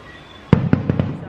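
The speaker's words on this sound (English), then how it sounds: "We're just watching the fireworks literally from our window." Fireworks bursting outside, watched from a window: four sharp, booming bangs in quick succession after a short quiet stretch, each with a brief rumbling tail, fairly loud with no talking.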